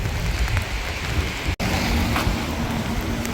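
Steady heavy rain pours down outdoors in Canada, a dense, even hiss with no talking and a brief dropout midway.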